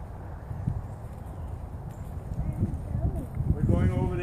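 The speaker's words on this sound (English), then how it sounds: "I don't know why there's a horse on walking around without a halter on." A horse walks loose around a riding yard with no halter on, its hooves clip-clopping in an uneven rhythm at moderate distance while people talk over it.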